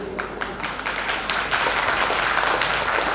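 Audience in a full hall at a Bhagwat katha religious gathering breaks into steady, sustained clapping that thickens and grows slightly louder as it continues.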